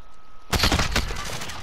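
Rapid gunfire erupts in a Call of Duty match after a brief quiet moment, with a dense burst of loud, sharp shots continuing to the end.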